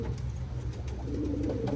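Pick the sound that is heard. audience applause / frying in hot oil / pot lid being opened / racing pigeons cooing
racing pigeons cooing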